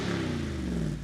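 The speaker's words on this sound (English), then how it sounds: "an exhilarating, unmistakable V8 sound" A deep, throaty V8 engine of a Jeep Wrangler Rubicon 392 rumbles loudly up close, its pitch sagging slightly during one brief sustained rev.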